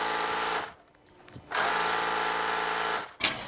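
A sewing machine runs in two bursts of steady stitching on knit fabric, with a short pause between them, loud and close with no talk.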